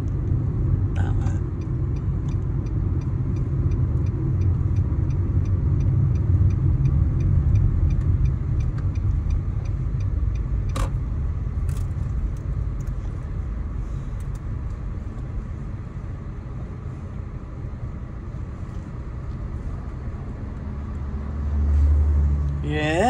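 A car engine hums and rumbles steadily from inside the vehicle as it is parked during a driving test, continuous low drone with faint clicks, under quiet talk.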